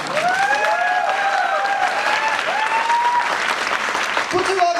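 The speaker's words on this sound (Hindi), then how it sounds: "फ्रेंड्स, ताली बजाओ तो अच्छी वाली बजाओ" Loud, steady applause from the crowd at a Delhi seminar, dense clapping filling the room the whole time, with voices calling out and shouting over it.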